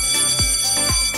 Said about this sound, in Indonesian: Jika alarm tanda kebakaran berbunyi,